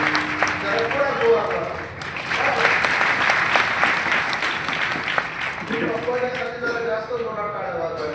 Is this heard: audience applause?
yes